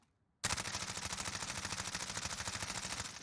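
Sustained rapid automatic fire from an MP5 submachine gun in Warzone, kicking in abruptly after a brief silence and rattling on as a steady, loud, close burst to the end.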